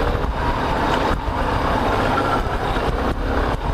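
A Yamaha Ténéré 250 motorcycle rolls along at close range over a small speed bump, its engine giving a steady, full drone with slight dips and no distinct thump standing out.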